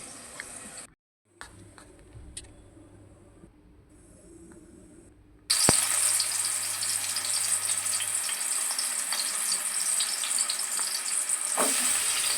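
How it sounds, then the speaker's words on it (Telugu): Onions frying in a pan for a country chicken curry: a quiet low sizzle at first, then a loud, bright, steady hiss of frying that fills the rest, with no talking. "పచ్చివాసన పోయేంత వరకు వేపుకుంటే సరిపోతుంది"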